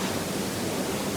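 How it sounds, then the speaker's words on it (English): A massive waterfall near Banlung in Ratanakiri roars as a steady, dense, unbroken rush of falling water, loud and close with no other sounds. "It's a massive waterfall, way bigger than any of the other ones we've been to."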